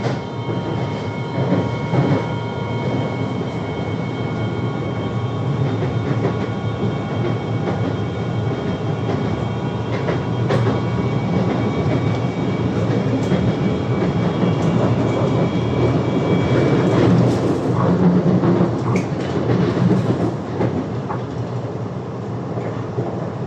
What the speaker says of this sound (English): here's the daylight footage of the train ride from Chan Sow Lin Station to Maluri